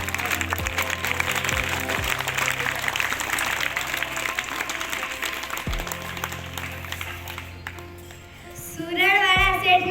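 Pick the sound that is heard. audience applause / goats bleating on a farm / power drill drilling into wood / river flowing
audience applause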